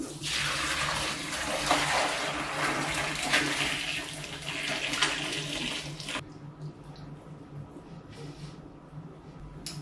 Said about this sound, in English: we're going to pour that liquid through the double gauze through the strainer.